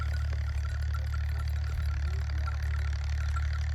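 A tractor engine runs in a village field during ploughing, a steady low, droning rumble that holds an even level throughout with no speech.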